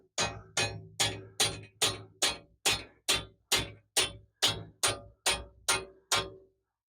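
A tent stake is tapped into snow at a solo winter campsite, with thirteen evenly spaced, sharp metallic taps that ring briefly, each struck at a steady rhythm about half a second apart, close and alone.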